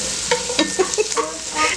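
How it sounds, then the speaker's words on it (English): Chopped onions stirred around a frying pan for chili beans, with quick close scrapes and clinks of the utensil over a soft sizzle. "stir in the chopped onions"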